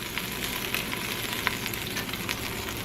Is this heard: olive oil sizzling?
yes